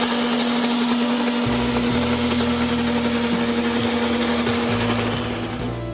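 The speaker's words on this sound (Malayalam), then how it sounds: "ഇതെല്ലാം ഒരു മിക്സിയുടെ ജാറിലേക്ക് ഇട്ടിട്ട് അതിന് ഫൈനായിട്ട് പേസ്റ്റ് അടിച്ചെടുക്കണം" Mixer grinder running steadily, blending cumin seed and chilli into a fine paste for kara chutney; a loud, continuous motor whine with a low rumble that shifts as the contents churn, alone without talk.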